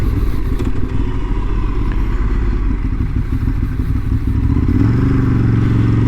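A Ducati 848 sport motorcycle on the move, its engine a loud, steady, close rumble with some clatter, rising in pitch near the end.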